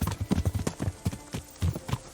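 Horse hooves clip-clop steadily while riding in the medieval video game Kingdom Come Deliverance, a quick continuous gait of close, moderately loud beats with no talk.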